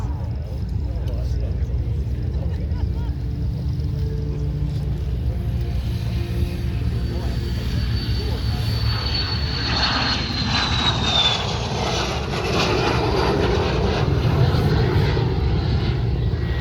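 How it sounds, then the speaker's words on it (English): A de Havilland Vampire jet making its final pass at the EAA AirVenture Oshkosh airshow, a steady loud engine roar that swells as it passes, with an announcer talking over it. "for his final pass is Mr. Jerry Conley, the pilot and owner of not one, not two, not three, but 4 Vampires"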